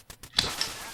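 A duck quacking in the NES video game Duck Hunt, a single short, bright honking quack following a few soft thumps, close and loud.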